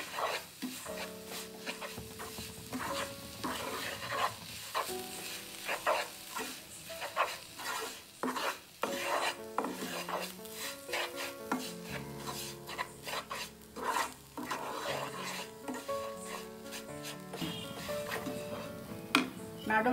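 Rice flakes (aval) for sweet puttu get stirred and mixed in a pan, giving continuous dry scraping and rasping strokes in a quick uneven rhythm, close and fairly loud with no talk.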